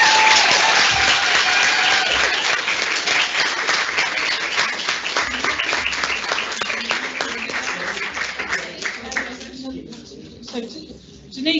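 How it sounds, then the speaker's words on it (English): An audience at a student midwife debate gives a big round of applause, loud and sustained at first, then thinning and tapering off toward the end. "Can we get a big round of applause?"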